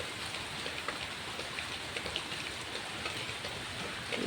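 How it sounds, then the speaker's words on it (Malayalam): Rain falls steadily in a misty hill setting, a constant soft hiss of drops on surfaces, fairly quiet and even, with no voices. "ഒരു മഴ വന്നാലുള്ള അവസ്ഥയാണിത്"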